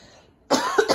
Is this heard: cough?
yes